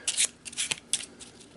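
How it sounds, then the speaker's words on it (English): Eldritch Horror board game condition cards shuffled by hand, a quick series of crisp riffling bursts, close and clear with no talking. "Give them a quick shuffle"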